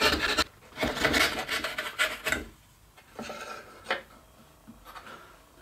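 Cutting a divot into the wooden side of an old-time sled produces close, rough rasping strokes, dense and fast at first, then slower and more spaced, with scraping of a tool on wood.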